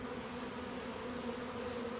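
Honey bees hum in a steady, even drone at a hive troubled by wax moths, the buzz continuous and fairly faint with no voices.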